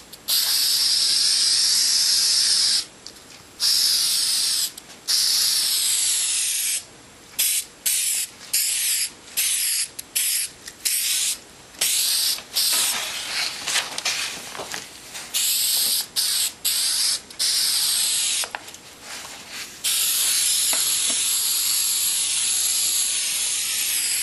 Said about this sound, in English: I just take my spray adhesive and